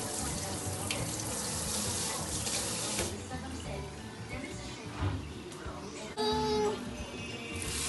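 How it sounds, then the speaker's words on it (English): A tap runs steadily into a sink while a child washes her hands before cooking, a continuous splashing hiss with faint clatter, and quiet voices are heard in the background. "go and wash your hand, Bella."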